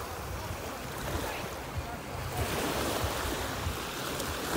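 Calm Black Sea surf at Sochi on a warm August evening, a steady soft wash of small waves with a light sea breeze brushing the microphone, continuous and fairly close, no talking.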